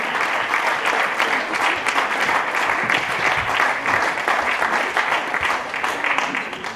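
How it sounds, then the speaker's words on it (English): Dense, continuous audience applause at a local radio awards night, loud and even throughout with faint crowd noise mixed in. "Massive round of applause for these guys."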